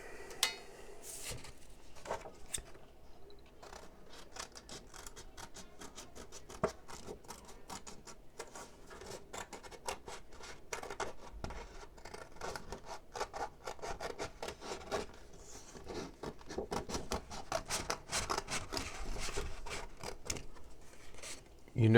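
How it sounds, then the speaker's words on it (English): Quiet scissors snipping and paper rustling while cutting out a paper cactus template, a steady series of soft close cuts and rubs with a person talking over them. "But first, let's cut it all out."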